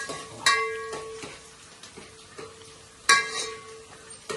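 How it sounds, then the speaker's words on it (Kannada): Onions frying in oil in a pan for mutton keema sambar, with a soft steady sizzle broken by several sharp clinks and scrapes of a stirring spoon against the pan. "ಎಣ್ಣೆ ಹಾಕ್ತಾ ನಂತರ ನಾವು ಈರುಳ್ಳಿನ ಹಾಕೋಬೇಕು ಇದು ಚೆನ್ನಾಗಿ ಬ್ರೌನ್ ಕಲರ್ ಬರೋವರೆಗೂ ಫ್ರೈ ಆಗಬೇಕು"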